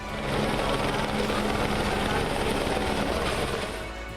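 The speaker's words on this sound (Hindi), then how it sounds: "हेलीकॉप्टर से पुष्प वर्षा" A helicopter showers flowers over pilgrims at the opening of the Badrinath Dham temple doors, its loud, steady rotor roar filling the scene continuously with voices faintly mixed in.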